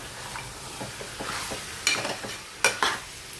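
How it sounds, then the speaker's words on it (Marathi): Marinated chicken masala being sautéed in oil, Malvani style, with a soft steady sizzle and a run of spoon-stirring scrapes, plus a few sharper metallic clinks against the pan toward the end. "आपण आता छान असं हे तेलामध्ये असं परतून घेतलं."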